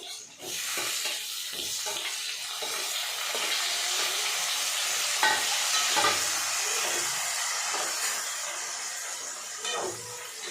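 Onions frying and being stirred in a pan for egg kurma, a steady broadband sizzle with scraping stirring strokes throughout, close and fairly loud, with no talk over it.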